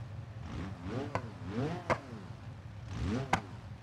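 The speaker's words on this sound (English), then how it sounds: "start the engine. We're going to drive this onto the back of the trailer" A rally car's engine in BeamNG.Drive revs in repeated rising and falling sweeps, each peaking with a sharp pop, a close mid-pitched whine over a low idle rumble.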